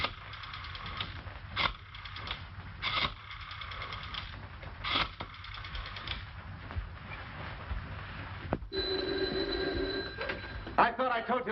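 Bursts of an old-fashioned telephone bell ring repeatedly in a 1938 mystery film scene, spaced apart over a steady background hum.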